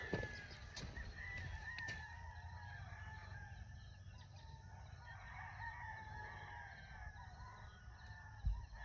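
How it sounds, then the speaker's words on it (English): Roosters crow from several directions at dawn, each call distant and drawn out, overlapping against a steady outdoor background with a faint thump near the end. "All different directions I hear roosters crowing."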